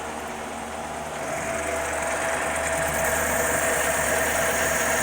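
A Logan 12 inch lathe motor spins up after a shot of lubricant, its steady hum and mechanical rattle growing slightly louder and holding evenly, close by with no talking.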